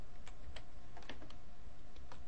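Computer keyboard arrow keys pressed during a digital image editing session, a few separate light clicks spaced irregularly over a steady low background hum, close and fairly quiet, no voices.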